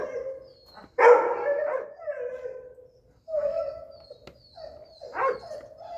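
During whip training in a dog session, a dog lets out three sharp, loud bark bursts separated by pauses, with whiny, whimpering tones trailing between them.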